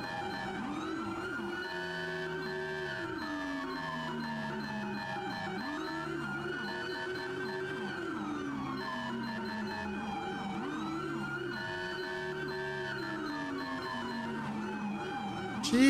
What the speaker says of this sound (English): AIs don't ever listen to sirens whatsoever.